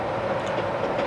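Coal cars rolling past on a railroad line in 1991, a steady close rumble of wheels on track that runs without a break.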